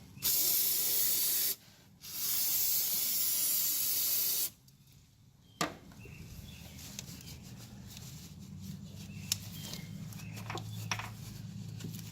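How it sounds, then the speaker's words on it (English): Two long bursts of aerosol brake cleaner spray hiss up close, separated by a short pause, followed by quieter handling noises and faint clicks, during a 1996-2002 Toyota Camry water pump replacement. "spray brake cleaner and just wipe it dry"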